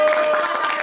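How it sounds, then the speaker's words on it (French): A TV game-show audience in Cannes claps briefly, a short burst of applause over a faint sustained tone. "Ben, applaudissez."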